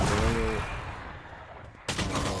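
Gunfire and a swarm grenade in a live Valorant tournament match, a loud sustained burst of rapid shots and impacts that fades, then a sharp new crack of fire near the end.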